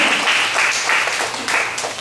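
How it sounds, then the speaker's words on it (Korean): Congregation applause during a Sunday morning church service, a dense, steady burst of many hands clapping together for about two seconds, loud and close, with no speech over it. "박수 한 번 더."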